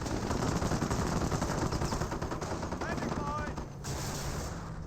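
Continuous battle gunfire in the WWII strategy game Company of Heroes, with rapid machine-gun bursts and rifle shots rattling steadily through the scene and a commentator talking over it.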